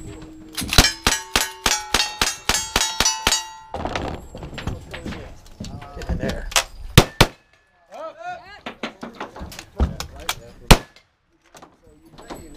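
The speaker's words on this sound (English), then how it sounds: "That was a nice rifle run." A rapid string of rifle shots rings steel targets during a cowboy action shooting stage, each shot followed by a sharp metallic clang. Voices talk in the pauses after the run.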